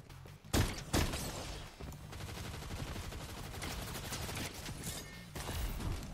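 Shotgun blasts in Fortnite Chapter 5 Season 1, with a couple of loud, sharp booms up front followed by rapid clattering gunfire and more shots near the end, all close and punchy.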